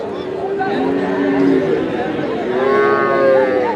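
At Hazratpur cattle market in Keraniganj, heifer calves moo loudly and close by in long drawn calls, over a busy background of crowd chatter and talk.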